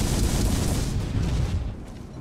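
Ship cannons firing in a Port Royale 4 sea battle, heard as a dense, loud rumbling barrage of booms that keeps up steadily and then slowly eases off toward the end.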